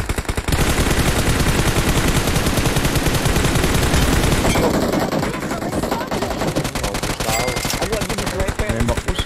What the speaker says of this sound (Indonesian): Nembak tuh siapa